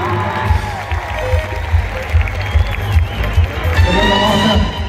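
Rodeo arena crowd at a bull-riding event cheers and claps together, a dense steady roar of voices and applause with whoops rising toward the end.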